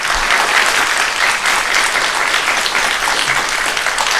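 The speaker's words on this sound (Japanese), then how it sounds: "どうぞ今一度皆様、お三方に盛大な拍手をお願いいたします。" An audience at the 2016 Miss Nebuta beauty contest gives loud, continuous applause to the three prize winners, a close, full wall of clapping throughout.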